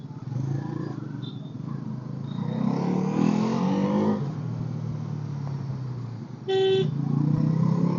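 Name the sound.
road traffic with honking horns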